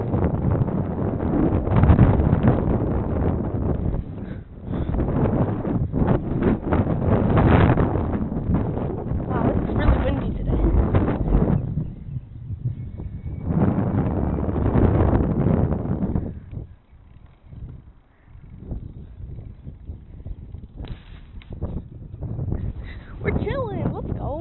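Strong wind at a gas station buffets the microphone in loud rumbling gusts that rise and fall for about twenty seconds, with people talking underneath.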